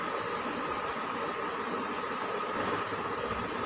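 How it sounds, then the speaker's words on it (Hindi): A household electric fan whirs in a home in a steady, unbroken broadband whoosh that stays even and fairly close for the whole stretch, with no voices over it. "अभी आप लोगों को पंखे की आवाज़ सुनाई दे रही होगी"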